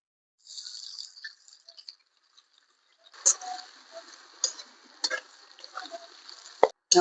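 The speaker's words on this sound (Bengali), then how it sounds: "এই পেঁয়াজ কুচি গুলোকে এখন আমি ভেজে নেব।" Chopped onions fry in oil left over from frying potatoes, for a mutton biryani: a steady soft sizzle with scattered crackles and pops that begins quietly and grows busier, heard up close.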